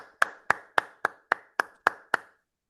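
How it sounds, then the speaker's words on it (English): Eight sharp, evenly spaced hand claps ring out one after another at a quick steady rhythm, close and fairly loud, from participants unmuted on a video call during an online open-mic poetry event, then silence. "Please unmute and give them a big round of applause for Kate Jenkinson."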